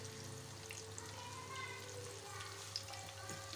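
Chicken pieces frying in oil, KFC-style, being cooked to golden brown: a steady, soft crackling sizzle runs throughout at close range with no talk.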